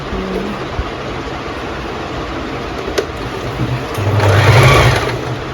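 Usha Wonder Stitch Plus electric sewing machine running, a steady close mechanical whir that swells louder in a short burst near the end, with no talk.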